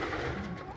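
Homing pigeons cooing nearby, a soft, low, throaty coo that runs steadily through a brief moment with no talk.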